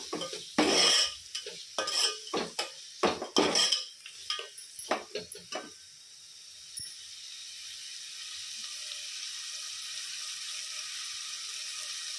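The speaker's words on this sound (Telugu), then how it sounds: "అన్నీ బాగా ఫ్రై అయ్యి ఉల్లిపాయలు కొంచెం వేగేంత వరకు ఫ్రై చేసుకోవాలి." Onions and spices fry in a pan as a utensil scrapes and stirs in loud, uneven clattering strokes, then the stirring stops and a soft, steady sizzle carries on alone.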